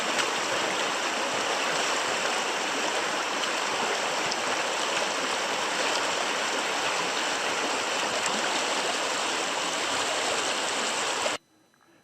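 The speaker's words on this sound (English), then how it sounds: "Here I am in one of our many river crossings." Steady, loud rushing of a river during a crossing in a canyon on a Dall sheep hunt, a continuous broadband wash of flowing water heard up close with no voices, cutting off abruptly at the end.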